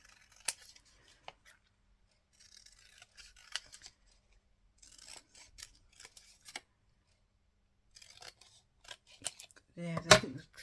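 Scissors snip through paper while making craft clusters, with soft scattered cuts and a short louder burst of cutting near the end, with quiet handling noise in between.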